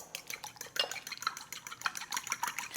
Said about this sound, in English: I'm going to just give these a light scramble